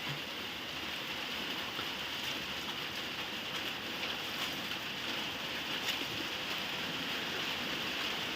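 Heavy storm rain falls steadily around a small thatched hut, a continuous dense hiss with no pauses and no voices.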